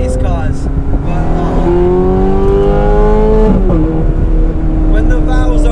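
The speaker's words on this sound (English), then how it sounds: "you get that naturally aspirated V8" A loud naturally aspirated Ferrari V8 engine with stock exhaust revving and droning steadily, its pitch rising then dropping, with a person talking over it.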